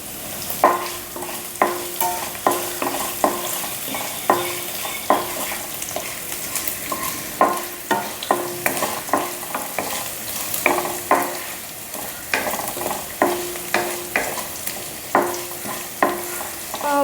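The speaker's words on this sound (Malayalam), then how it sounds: "പച്ചമുളക് ഒന്ന് നന്നായിട്ടൊന്ന് മൂത്ത് വരണം കേട്ടോ അതുവരെ വഴറ്റി കൊടുക്കുക" Green chillies are sautéed in a pan for a Thrissur-style puli inji, with a steady low sizzle and regular scraping stir strokes repeating every second or so, close and alone.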